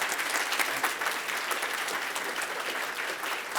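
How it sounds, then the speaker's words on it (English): Conference audience at a tech event gives a steady round of applause, many hands clapping at an even, moderate level throughout. "can we give these guys a big round of applause?"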